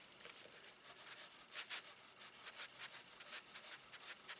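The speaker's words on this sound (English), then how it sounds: "so I'm just going to remove that with my glue eraser" A glue eraser rubs steadily across a paper-covered notebook to lift stray adhesive, giving a faint, continuous close-up scrubbing sound with small rhythmic swells.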